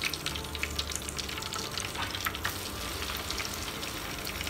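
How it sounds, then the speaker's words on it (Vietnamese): Tofu skin fries in hot oil with a dense, continuous crackling sizzle, close and steady, with no voices. "Dầu sôi ha cả nhà. Bây giờ mình sẽ chiên ha."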